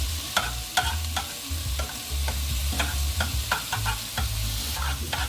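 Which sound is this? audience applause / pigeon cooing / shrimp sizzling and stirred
shrimp sizzling and stirred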